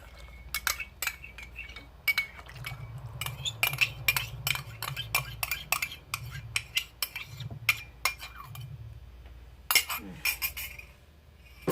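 A coffee mixture stirred into a mocha ice cream base, with a metal spoon clinking rapidly against a glass bowl in bright, close bursts, under someone speaking softly.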